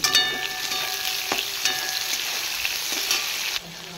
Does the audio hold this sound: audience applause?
no